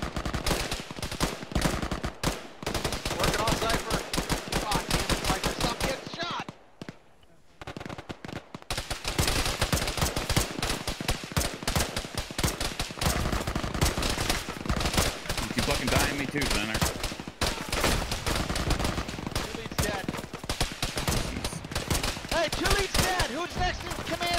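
Sustained automatic gunfire in an Arma military video game, dense rapid bursts filling nearly the whole stretch with a brief lull, while players talk over radio.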